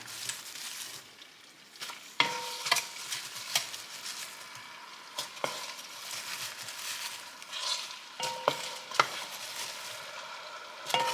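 Apples cooking with butter and cinnamon in a pan coming up to a boil, with a gentle sizzle and bubbling under repeated stirring, scraping and light utensil clinks.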